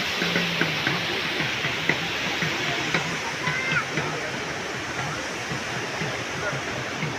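Water rushes steadily at the Galdara pool beside a Mataji temple, the pool filled to the brim; a loud, continuous roar runs throughout with faint voices in the background.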